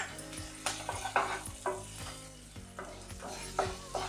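Turmeric and curry leaves sizzling in hot oil for an aloo fry while a spoon stirs and scrapes the pan, steady frying hiss broken by several sharp scraping strokes, close up.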